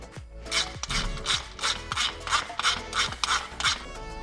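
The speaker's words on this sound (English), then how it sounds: "to remove your stock skid plate, you just need to remove this bolt right here" A tool works at the 10mm bolt on a Yamaha TW200's stock skid plate in a run of about eight even, rasping strokes, close and fairly loud, with no voices.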